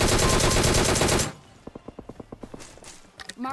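A Scorpion gun fires in PUBG Mobile: a loud, rapid burst of automatic fire rattles for about a second, followed by quieter, evenly spaced shots or footsteps and a final short burst.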